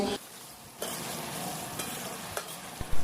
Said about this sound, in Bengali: তারপরে উল্টে পাল্টে টোফুগুলোকে ভেজে নেব